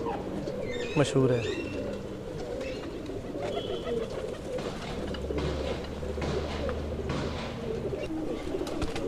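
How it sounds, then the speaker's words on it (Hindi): A Pakistani pigeon in a large breeding loft coos softly and repeatedly under steady nearby talking, with brief chirps and other bird sounds around it. "ये कबूतर मेरे घर का नहीं है, पाकिस्तानी कबूतर है।"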